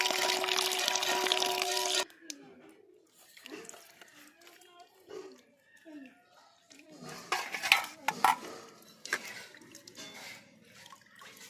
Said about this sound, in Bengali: ওই চিংড়ি মাছটাই রান্না হবে সেটা এখান থেকে ধুয়ে নেবো